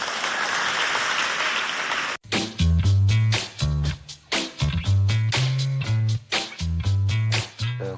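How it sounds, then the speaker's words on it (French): Applause at a school event with a competing lycée and school complex, a dense burst of clapping lasting about two seconds before it cuts off and loud music with a heavy beat takes over. "Applaudissez pour moi"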